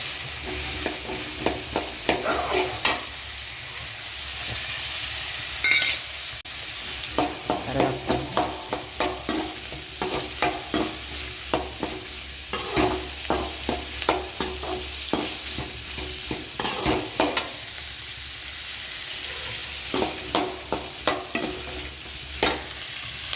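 Ginger and garlic sautéing in a pan, with a steady sizzle and frequent scraping stir strokes of a ladle against the pan throughout, close and fairly loud.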